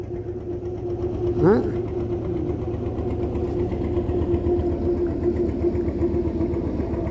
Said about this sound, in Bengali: এখানকার যন্ত্রণা হইলো এই ট্রলার।